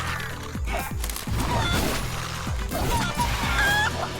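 Chicken clucks and squawks in the brawler game Guacamelee! 2, a burst of short fowl calls over game fight sounds and music, fairly loud throughout.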